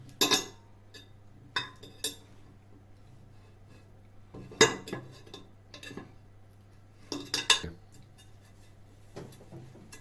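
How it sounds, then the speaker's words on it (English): Ingredients stirred in a bowl with a utensil, producing a few scattered clinks and scrapes in separate bursts, close and moderately loud over a quiet kitchen hum. "And stir it."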